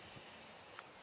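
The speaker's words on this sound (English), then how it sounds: "I hear crickets." Crickets chirping in a coastal marsh garden at Little River, South Carolina, a faint steady high trill running throughout with a few soft brief sounds mixed in.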